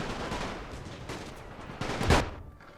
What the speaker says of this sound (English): these artillery pieces are now coming under fire